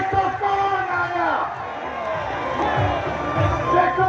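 A crowd at a PML-N political rally in Karachi cheers and shouts, many voices overlapping in a loud, continuous roar with bursts of louder yelling.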